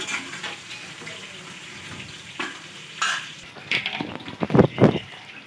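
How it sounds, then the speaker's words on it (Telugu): A spoon stirs fenugreek leaves through goat head curry cooking in a pan, with a soft sizzle underneath and a few sharp scraping clinks building toward the end. "స్పూన్ తీసుకొని ఒకసారి ఇలా కలిపేద్దాము"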